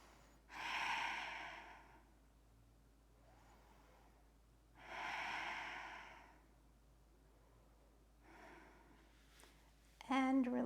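Slow breaths drawn during a yoga stretch, two long, soft airy swells a few seconds apart with quiet pauses between, close and faint, followed by a brief clatter near the end.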